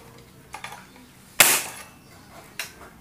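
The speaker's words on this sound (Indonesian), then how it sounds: "Tembakan pertama" A D'Cobra M802 LWRC SABR spring airsoft sniper rifle fires a single sharp, loud crack, preceded by faint mechanical clicks and followed by a smaller knock, quiet surroundings otherwise.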